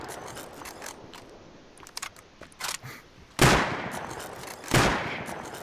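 Gunfire in a modded Rust match: scattered light mechanical clicks and short shots, then two loud, close bursts of fire a little over a second apart.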